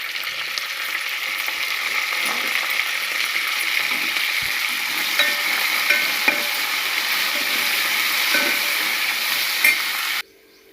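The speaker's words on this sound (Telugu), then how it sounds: "ఆయిల్ వేడైన తర్వాత పోపు గింజలు అవన్నీ అందులో వేసుకొని కొంచెం సేపు ఒక 2-3 నిమిషాలు వేయించుకోవాలి" Seasoning seeds fry in hot oil, giving a steady close sizzle with scattered pops and crackles, which cuts off abruptly near the end.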